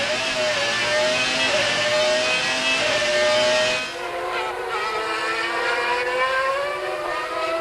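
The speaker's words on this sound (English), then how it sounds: "listen to that Renault engine." A Renault engine in a Formula 1 car screams at high revs in racing at the 1995 European Grand Prix at the Nürburgring. The engine is loud and continuous and changes pitch as the car passes, with no talk.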